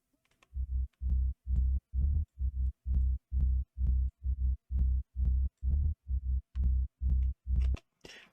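Sampled bass line in an Ableton electronic track, built from an audio sample with fade-ins and fade-outs: a steady run of about fourteen short, deep, pulsing bass hits in a regular rhythm, loud and alone with no other instruments.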